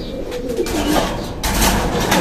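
Pigeons coo in a loft as a hen feeds her newly hatched chicks, the close, loud, throaty cooing continuing steadily with rustling and a burst of noise partway through.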